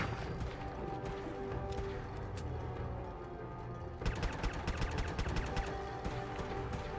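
Rapid bursts of gunfire from the video game Fallout 4 rattle through a dense, continuous game soundscape, growing sharper and more clustered in the second half, with no talking over it.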